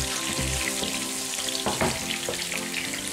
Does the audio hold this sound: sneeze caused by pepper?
no